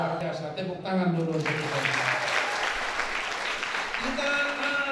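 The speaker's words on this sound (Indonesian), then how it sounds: "Tepuk tangan dulu." An audience at an Indonesian church youth revival service breaks into loud, sustained clapping that swells after a brief voice and continues steadily to the end.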